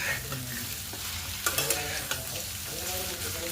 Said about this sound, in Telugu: బెండకాయలన్నీ ప్యాన్లోకి మెల్లిగా ట్రాన్స్ఫర్ చేసుకున్న తర్వాత గరిటెతో మెల్లిగా కలుపుకోవాలి.